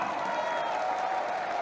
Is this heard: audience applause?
yes